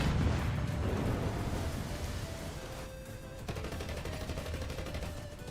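Tank cannon and gunfire in a World of Tanks style battle, a dense rumbling barrage of shots and blasts continuing throughout with no talk.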